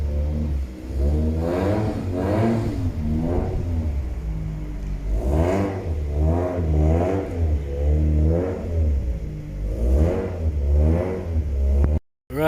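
A Toyota MR2 engine revs repeatedly in a steady rhythm of rising and falling surges over a loud idle, close by with no talking, cutting off abruptly near the end.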